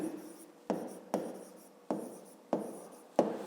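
Handwriting on paper: five quick scratchy pen strokes at a steady pace, close and soft, with no talk.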